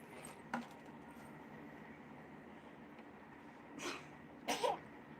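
Two quick sneezes, one after the other, stand out near the end of a quiet stretch, preceded earlier by a small sniff or cough.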